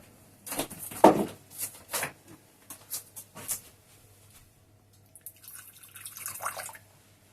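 Warm water pours and splashes into a container holding yeast for bread dough in short bursts, followed by a softer stream of liquid near the end.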